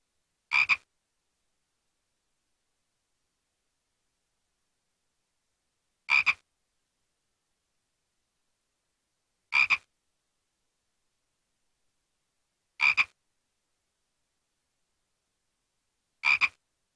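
A frog croaks in the video game Simon the Sorcerer, five short identical croaks spaced several seconds apart over silence, clear and close.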